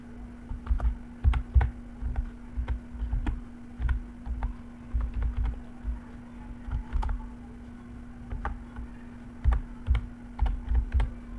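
Fingers type Python code on a computer keyboard, a steady run of close, crisp key clicks in uneven bursts with short pauses, alone over a constant low electrical hum.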